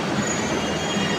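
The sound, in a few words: metro train at Ernakulam station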